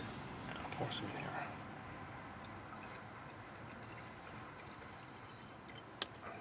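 Woolite Oxy Deep carpet cleaning solution poured into the tank of a Bissell Little Green ProHeat carpet cleaner, a soft steady liquid trickle close by, with a sharp click near the end.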